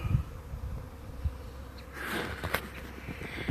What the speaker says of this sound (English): It was definitely a swarm.